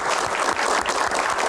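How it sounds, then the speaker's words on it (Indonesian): Audience applause at a Q&A session, a brief dense burst of steady clapping, loud and close. "Tepuk tangan, terima kasih."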